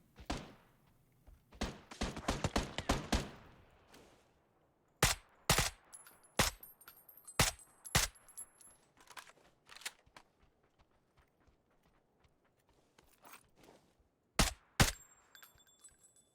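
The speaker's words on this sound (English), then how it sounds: "That's what the Dragonov sounds like." Dragunov sniper rifle fire in a video game: sharp, loud single shots ring out in clusters, a quick burst of several early on, then spaced reports with quiet gaps between, mostly free of talk.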